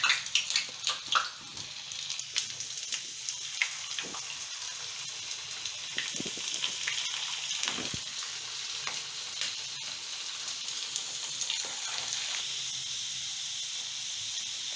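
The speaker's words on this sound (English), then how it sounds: "We will deep fry this." Chicken deep frying in hot oil, a continuous bright bubbling sizzle with a few louder pops near the start, steady and close throughout.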